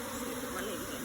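Swarm of African bees buzzing during a capture, a steady, dense droning hum of many insects close by.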